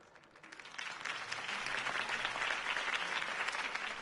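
A game crowd breaks into applause after a campaign speech in Batman: The Telltale Series, with clapping swelling from quiet to a sustained, dense roar of many hands.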